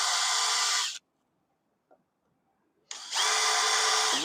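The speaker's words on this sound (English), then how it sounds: "That'll make it easier on me drilling all these holes." A power drill with a quarter-inch bit boring holes in a mailbox face plate: a loud whining burst, about two seconds of near silence with a faint tap, then the drill spins up again.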